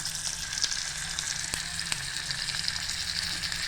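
Bangda (mackerel) fish fries in a pan with a steady crackling sizzle of hot oil, broken by a few sharp spits and pops, heard close with no voices.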